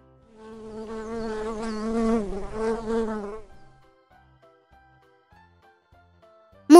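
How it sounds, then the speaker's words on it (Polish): A bee buzzes loudly and close for about three seconds, its drone wobbling, before giving way to quiet sparse tones. "Pszczoła."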